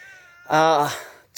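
A cat gives one clear, drawn-out meow at close range, followed by a brief faint squeak.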